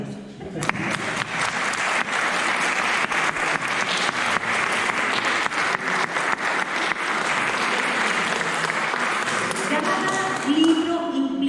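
An audience at a talk on contemporary literature breaks into sustained applause, a thick bed of clapping with distinct sharp claps, tapering near the end as a voice begins speaking.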